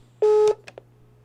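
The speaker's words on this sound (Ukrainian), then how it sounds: "З позвоним до юриста." A phone number is dialed by hand in an office: one longer touch-tone beep is followed by two short dial blips over a low steady hum.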